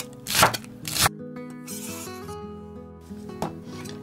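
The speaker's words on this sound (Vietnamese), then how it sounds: "Hành lá thì mình cắt khúc cái phần đầu hành, và phần lá hành thì mình xắt nhuyễn ra" Green onions are cut with a knife on a board for braised fish, giving a few quick crunchy cuts followed by softer rubbing and scraping, close and clear with no talk.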